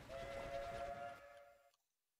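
A steam-era train pulling away in a Civil War strategy game, a short rolling rumble with a faint sustained whistle tone that fades out abruptly into silence.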